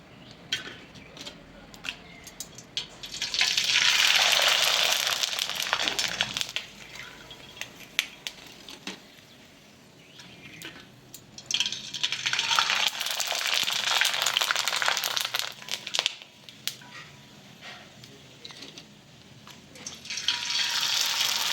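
Sabudana potato papads dropped into hot oil, fizzing and crackling loudly in two long bursts that fade between batches, with no voices over the frying.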